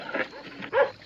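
A dog in a horror film, the piranha movie, gives a brief growling bark that rises into one louder yelp near the end, heard close and alone.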